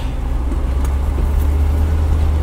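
A 1977 Corvette barn find rolls along the road, its engine giving a steady low rumble with continuous road and cabin noise at an even level and no talking.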